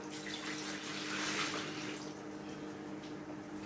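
Warm water pours steadily into a bowl of sugar for soft honey butter rolls, a close continuous splashing trickle that holds for a few seconds without any talk.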